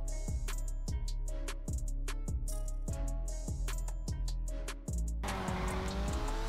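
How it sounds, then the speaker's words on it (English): An Annis Euros X32 rear-wheel-drive car in GTA Online revs hard through a run of turns, its engine rising and dropping repeatedly with each gear change, loud and close, ending in a rougher tire-scrub roar. "let's take this car on some turns and see how she handles"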